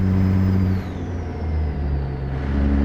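A heavy truck engine in American Truck Simulator drops in RPM, a loud, steady low droning rumble with a faint high whine that slides downward and settles as the revs fall.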